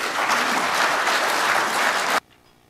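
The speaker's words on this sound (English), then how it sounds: "give a big round of applause for Mike" Dense, steady audience applause welcoming speaker Mike Robinson at a British Constitution Group conference, sustained at full strength before cutting off abruptly into near silence.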